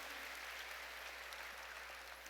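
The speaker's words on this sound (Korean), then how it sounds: "박수로 하나님께 영광 돌려서" Steady applause from a church congregation, dense and continuous clapping throughout at a moderate distance.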